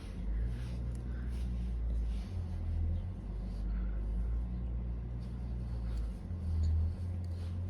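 A car rumbles with a low engine drone that swells and fades as it drives past outdoors, moderately loud with a steady background hum.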